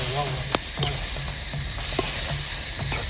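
Marinated chicken sizzles in a hot pan over an outdoor campsite fire, a soft, steady frying hiss broken by a few faint clicks and pops, heard close but quietly.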